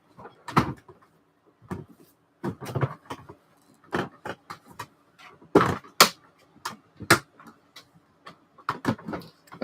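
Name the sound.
rummaging through a drawer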